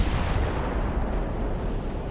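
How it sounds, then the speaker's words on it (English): Warship guns fire during a naval battle in Ultimate Admiral: Dreadnoughts, producing a dense, rumbling barrage of low booms that blend into a continuous roar throughout the short stretch. "that's probably his smaller guns going after my cruisers"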